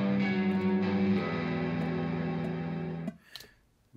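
Electric guitar chord sustained through vibrato, reverb and delay effects, ringing loud and steady for about three seconds before cutting off, followed by a brief echoing tail and a faint high shimmer.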